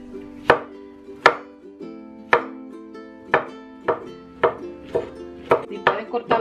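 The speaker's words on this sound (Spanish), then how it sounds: "Cortar los pedacitos más chiquititos es un poco mejor" A knife chops zucchini summer squash into small pieces on a cutting board, about a dozen crisp, sharp knocks at a steady then quickening rhythm, close by, with a faint tonal hum underneath.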